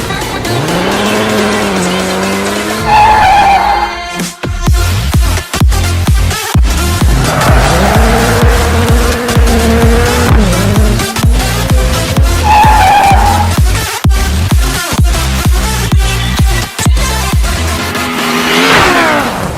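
Race car in the DIRT 4 video game running the Joker lap of a rallycross qualifying session, engine loud and continuous with repeated tyre squeal and skidding through corners, revs rising and falling throughout.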